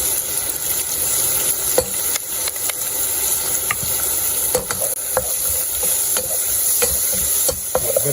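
Curry powder stirred into sizzling okra curry with ginger and garlic in a Sri Lankan kitchen: a constant loud frying hiss broken by repeated sharp clicks and scrapes of a spoon against the pan, with no talking.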